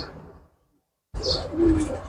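A Rajshahi local Giribaz pigeon gives a short, low, close coo after a brief silence, with faint rustling and a soft chirp around it.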